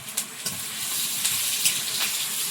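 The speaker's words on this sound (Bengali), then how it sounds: "পাঁচ ফোড়ন কটা তেজপাতা" Panch phoron spices and bay leaves sizzle in hot oil for a Bengali fish dish, a steady bright crackling hiss with a few sharper pops near the start, close and alone.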